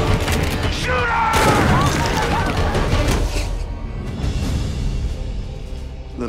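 Loud, dense gunfire and booming blasts rip through a supernatural action movie trailer about warring angels, a continuous barrage over swelling music with shouted voices mixed in, easing slightly toward the end.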